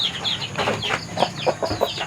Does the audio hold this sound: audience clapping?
no